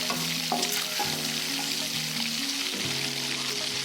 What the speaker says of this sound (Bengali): দিয়ে দিচ্ছি 2টো তেজপাতা আর জিরে। ভালো করে একটু ফ্রাই করে নেব।